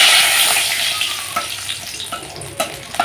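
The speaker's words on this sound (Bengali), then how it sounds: "কড়াইয়ে এলাচ, দারচিনি আর লবঙ্গ ফোড়ন দিলাম, আর তার সাথে তেজপাতা।" Whole cardamom, cinnamon, cloves and bay leaf tempering in hot oil in a kadai, giving a steady close sizzle broken by a few sharp pops and a stir near the end.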